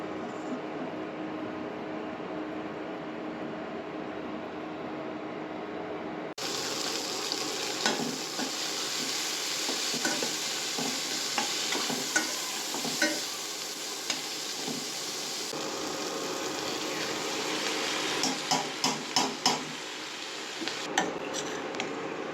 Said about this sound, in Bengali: ঘিটাতে এখন ভাতটা মেখে রাখতে হবে